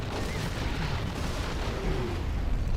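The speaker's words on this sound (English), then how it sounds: "Artillery kills the Gatling cannon." Artillery fire in a real-time strategy video game, a dense, continuous rumbling barrage of booms that blend into one another and stay loud throughout.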